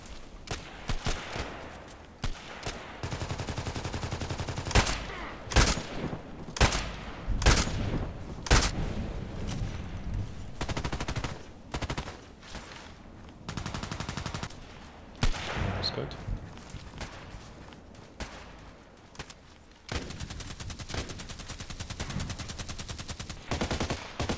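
Enemies fire at the player in a shooter video game, with bursts of rifle and machine-gun fire and single sharp shots cracking on and off, loud and close, over about twenty seconds.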